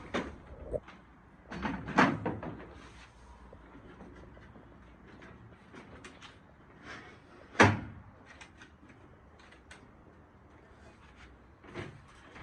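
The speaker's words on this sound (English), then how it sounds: "let's put this door in and see how it performs" A pet door insert is fitted into a sliding patio door, with scattered knocks, clunks and sliding rattles at irregular intervals, two sharper bangs standing out against quiet room background.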